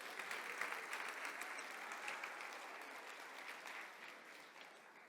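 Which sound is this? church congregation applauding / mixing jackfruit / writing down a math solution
church congregation applauding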